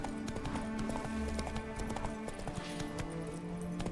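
Roach, Geralt's horse in the video game The Witcher 3: Wild Hunt, gallops with rapid rhythmic hoof clip-clops and a brief snort under game music tones, loud and close throughout.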